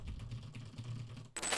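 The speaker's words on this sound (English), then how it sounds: "And now I am really slamming away at the keys as if I was angrily typing out a letter to my mum." Hard, fast typing on a computer keyboard, keys slammed in a dense close clatter, ending in a sudden burst of bright noise.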